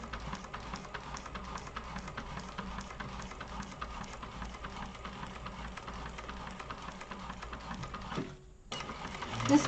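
A sewing machine runs in a quiet, continuous rhythmic patter while stitching a seam, stopping briefly near the end.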